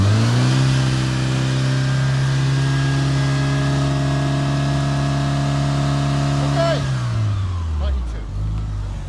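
A Mitsubishi Evo VII RS engine holds a steady, loud hum at about 4,500 rpm, then the revs drop sharply near the end and it settles to a lower rumble.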